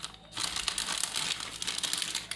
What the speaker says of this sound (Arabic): نفتح الكيس كده على الاخر